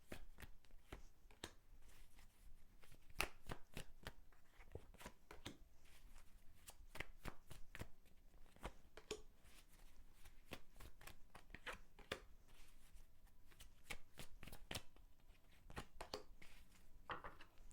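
Tarot cards being shuffled by hand, a long run of crisp riffling and flicking clicks in quick irregular bursts, close and steady with no talking.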